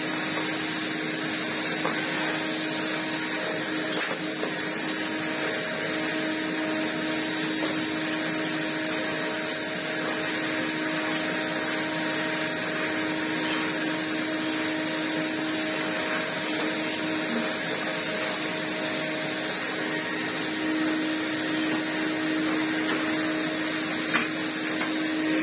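A Greenote vacuum cleaner runs with its hose attached, a steady loud whirring drone with a constant motor whine that holds unchanged throughout and has no talk over it.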